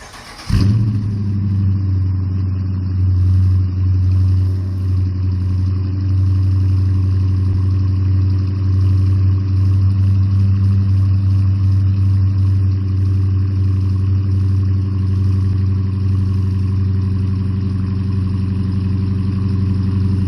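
A 2019 Dodge Challenger R/T engine cold-starts with a sharp burst, then settles into a steady, loud, deep idle that holds unchanged for about twenty seconds, heard close with no talking.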